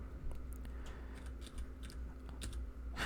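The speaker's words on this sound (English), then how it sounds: "it's making my mouse click" Rapid, light computer mouse clicks, triggered automatically by autoclicker software, tap out irregularly over a steady low hum, close and fairly quiet.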